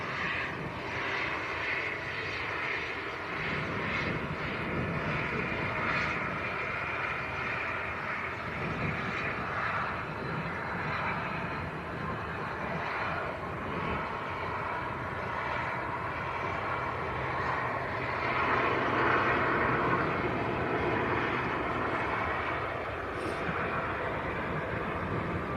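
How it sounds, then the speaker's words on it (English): A Virgin Atlantic Airbus A330 taxis at Manchester Airport, its engines a continuous broad roar at moderate distance that swells slightly toward the end, with no talk. "I've got Virgin A330 taxiing out."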